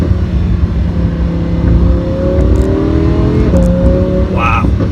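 A Lamborghini Huracan's engine revs and accelerates loudly from inside the car, with its rising engine note climbing through the gears over a steady road roar.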